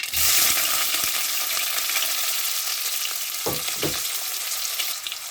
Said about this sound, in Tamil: கடுகு நல்லா பொரியுது. இப்போ வெங்காயம், சுட்டு மிளகாய், கருவேப்பிலை போட்டுக்கிறேன்.